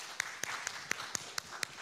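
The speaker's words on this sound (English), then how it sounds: "Round of applause." Slow, evenly spaced hand claps ring out in a church during Sunday worship, about eight sharp distinct strikes at a steady rhythm over quiet room background, sounding like a few people rather than a full crowd.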